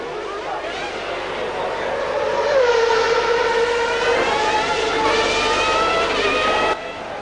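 A 1994 Formula One car, driven by Gerhard Berger, screams out of the Monaco tunnel at about 270 km/h, its high engine note loud and rising as it passes close, with commentary underneath.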